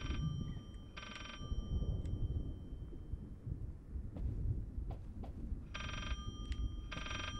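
A telephone rings in the horror video game Layers of Fear, two bursts of an old bell-like ring separated by a long gap, heard clearly over a low rumbling ambient drone.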